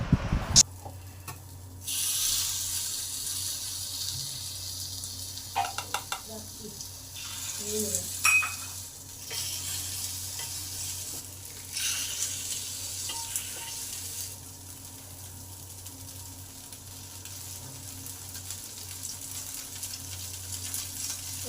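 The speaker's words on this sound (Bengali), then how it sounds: "আপে মেকারটা গরম হলে এক এক করে ডিমের কোপ্তাগুলো ভেজে নেবো" Egg koftas fry one by one in a little oil in a hot appe maker, giving a steady soft sizzle with occasional clicks and scraping of a spoon, no voices.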